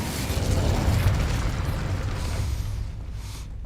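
Incendio fire spell cast in Hogwarts Legacy, a dense roaring burst of flame with crackling mechanical texture that swells at the start and holds steady for a few seconds before easing off.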